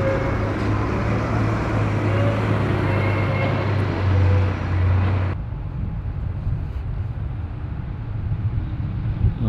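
A bus in Worcester traffic rumbles past on a city road, a loud, steady engine drone close by for about five seconds before cutting to quieter general traffic noise.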